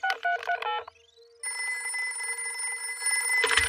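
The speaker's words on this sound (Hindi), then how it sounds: "हम दादा और दादी को फोन करते हैं।" On a Hindi Peppa Pig cartoon, a telephone is dialed, a rapid run of short keypad tones, then a sustained electronic ringing tone follows, clear and close with no talk.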